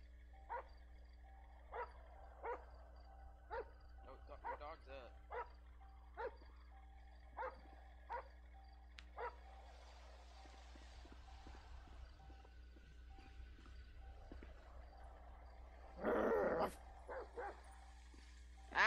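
A dog in a FiveM GTA roleplay game barks in a regular run of about a dozen short, evenly spaced barks, then gives a few sharper yips and whimpers later on, fairly faint over a low steady hum.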